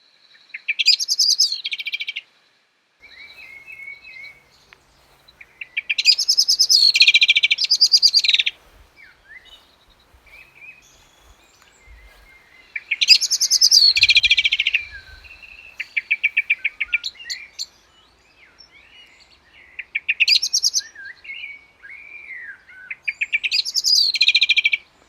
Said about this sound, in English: The unmistakable sound of an approaching blackbird.